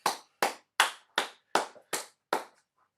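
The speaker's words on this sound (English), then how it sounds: "Give yourself a clap." Seven sharp, evenly spaced hand claps from a single person at a home workout, close and clear with silence between each and no talk.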